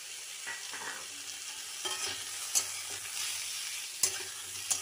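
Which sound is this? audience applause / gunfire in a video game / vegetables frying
vegetables frying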